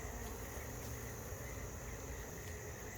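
Honeybees buzz in a dense, steady drone during a mid-October hive inspection, a close, continuous hum with a faint high whine on top and no voices.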